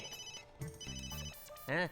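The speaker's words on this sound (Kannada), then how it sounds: "ಮೆಹ್ತಾ ಸರ್, ಒಳ್ಳೆ ಟೈಮ್ಗೆ ಫೋನ್ ಮಾಡಿದ್ದೀರಾ." A telephone rings during a comedy sitcom scene, with repeated bright electronic ring bursts that stay clear and moderately loud, and voices talking in between.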